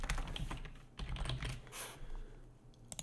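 Steady typing on a computer keyboard, a quick run of close, soft key clicks with a few louder taps, no voice.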